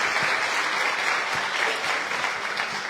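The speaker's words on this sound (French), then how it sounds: "Applaudissez Monsieur Claude avant qu'il ne débute." Audience applause at a regional awards ceremony for high-achieving baccalaureate graduates in Guadeloupe, dense steady clapping from a crowd filling the whole stretch without a break.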